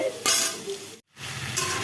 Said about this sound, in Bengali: সয়াবিনের জন্য এখানে আলু ভাজা করছি এই যে আলু ভাজাও প্রায় হয়ে গেছে